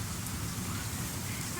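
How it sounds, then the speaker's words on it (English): Heavy rain pours steadily during a storm in Kansas, a dense, constant wash of noise close by with no breaks, heard alone without voices. "It is raining so hard right now."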